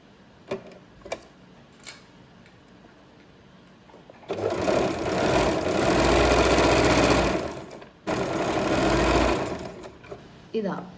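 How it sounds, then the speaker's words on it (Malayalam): A sewing machine stitches a folded fabric hem for a small child's dress, running in two steady, loud bursts of fast rhythmic whirring separated by a short stop, with light handling clicks before and after. "ഞാൻ കാണിച്ചുതരാം എങ്ങനെയാണ് സ്റ്റിച്ച് ചെയ്യുന്നത്"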